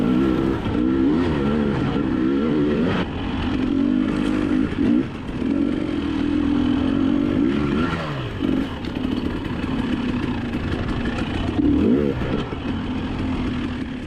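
Close, loud motorcycle engine running steadily with a buzzing tone, briefly rising and falling in pitch a few times as the throttle shifts, on a snowy trail ride, the bike's front half missing.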